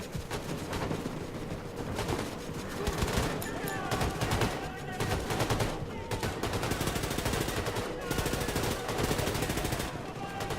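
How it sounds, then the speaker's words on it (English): Dense gunfire in a huge firefight in the video game Wolfenstein: The New Colossus, rapid machine-gun bursts and shots crackling loudly and continuously for about ten seconds. "It's a huge firefight."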